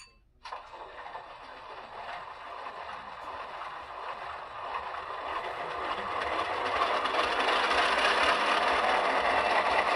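A model Pennsylvania Railroad locomotive starts up on its track, its engine sound building from a faint start into a steady, gradually louder rumble with light rattling, no voices.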